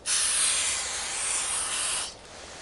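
Brake cleaner hisses from an aerosol can in one continuous burst of about two seconds during a 1952 Ferguson TO30 tractor's Continental Z129 engine rebuild, close and fairly quiet, then cutting off.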